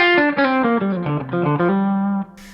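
A short run of clean electric guitar notes from a 1990 Gibson ES-335, played one after another in a quick melodic phrase without a pedal, ending on a held note.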